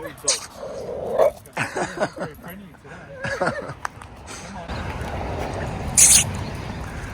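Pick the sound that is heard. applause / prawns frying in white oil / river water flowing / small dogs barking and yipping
small dogs barking and yipping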